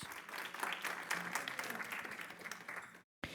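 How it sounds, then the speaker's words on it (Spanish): Audience at an electoral institutions panel in Latin America applauding the invited guests, a dense wash of clapping from a room full of people that cuts off abruptly near the end. "Les pido un aplauso para nuestras invitadas e invitados."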